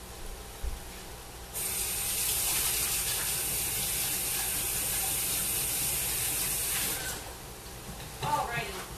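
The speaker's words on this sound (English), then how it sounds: "I do just want to wipe down my hands real quick" Hands being rinsed under a running kitchen tap, a steady gush of water for several seconds that stops abruptly, followed by faint handling noises.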